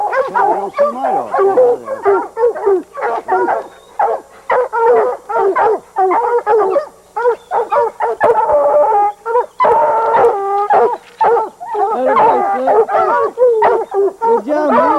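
A hound bays and howls loudly and close at a bear up a tree, with rapid repeated yelps and drawn-out bawls running almost without pause.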